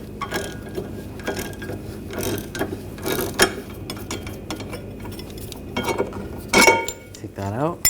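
A ratchet with an 18mm socket loosens the bolt of a rear sway bar link on a 2014-2020 Nissan Rogue, giving bursts of quick clicking with metallic clanks of tools between them, recorded close.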